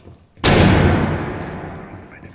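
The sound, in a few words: stun grenade (flashbang) tossed in a video game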